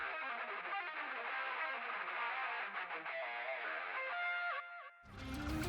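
Rhythm guitar heard only through a parallel Echo Boy Jr delay with the high end rolled off, a dense, smeared wash of distorted repeats sustaining steadily before a sudden change near the end.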